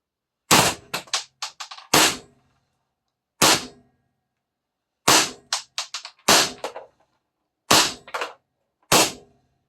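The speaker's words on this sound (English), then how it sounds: "Now I'm going to shoot this one. Same thing, same setup, same rounds." A Pistelle X68 CO2 air pistol fires seven sharp, loud cracks, spaced out with clear pauses between some shots and others coming close together, with no talk over them.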